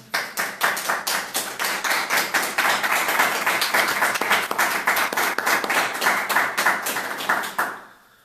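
A church congregation claps in unison, a loud, close, steady rhythm of about three beats per second with no talking, carrying on for several seconds before stopping abruptly near the end.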